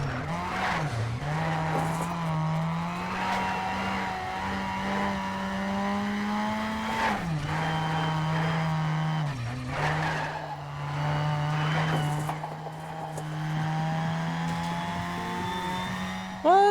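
A racing car engine in Need for Speed Shift 2 drones steadily through long gear pulls with brief shift dips, overlaid by sustained tire squeal and skidding, game audio without talk.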